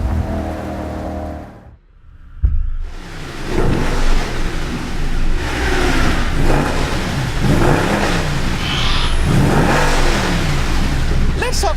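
A 6.2 liter V8 car engine revs loud and close, a steady, throaty roar that swells after a brief dip early on and then holds strong, with the car driven in wet, rainy, oily conditions.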